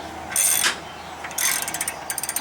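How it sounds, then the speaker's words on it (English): A ratchet wrench cranks tension onto a front strut on a Chevy Equinox, with two quick bursts of rapid clicking followed by a few slower, separate clicks, close and loud with no speech. "I'm going to take me a ratchet. I'm just going to bring up some tension on this thing."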